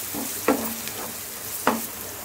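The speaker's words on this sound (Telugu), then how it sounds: "3 టేబుల్ స్పూన్ అల్లం వెల్లుల్లి పేస్ట్ వేసుకుని ఫ్రై చేసుకోవాలి" Ginger garlic paste frying with onions in a pan, a steady low sizzle heard close by, with two soft scraping stirs of a spoon.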